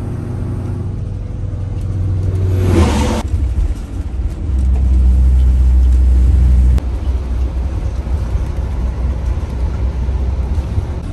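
A 12-valve diesel truck revs and rolls away, a loud, heavy low rumble that swells, holds with a deep drone, then settles into steady engine noise alongside a brief hissing burst.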